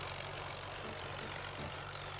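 Steady engine drone from a tractor in the Farming Simulator video game, a continuous low rumble with a broad hiss running at an even level throughout.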